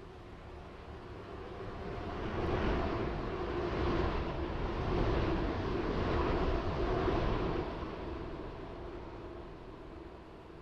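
A non-stopping train rushes through a platform at City Hospital station in a railway video game, with a steady broadband roar that swells over several seconds and then eases away, with no talking.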